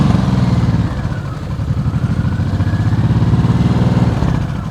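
Motorcycle engine held at a steady, low throttle during slow-speed riding practice, a continuous loud chugging drone with a rapid even pulse that barely wavers.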